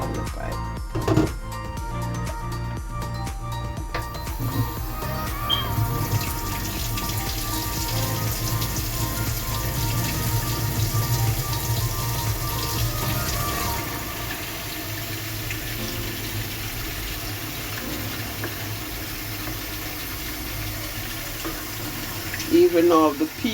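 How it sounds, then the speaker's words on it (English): Hot water runs steadily from a tap into a cooking pot, a continuous rushing stream that carries on for most of the stretch, with a few clinks and faint background voices around it. "Let me get some hot water from the pipe."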